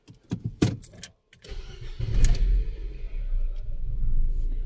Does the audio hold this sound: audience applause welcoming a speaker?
no